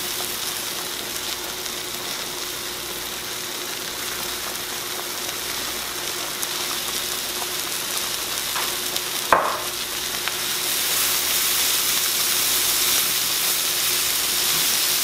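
Meat sizzling in a hot pan for buttered noodles and cabbage, a steady broad frying hiss with a sharp clatter midway, then louder sizzling toward the end; no talk.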